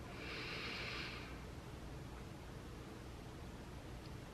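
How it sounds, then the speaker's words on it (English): One deep breath drawn in through the nose during a breathing exercise, a soft airy hiss for about a second over quiet room noise, close and faint. "Last one, make it deep. And inhale."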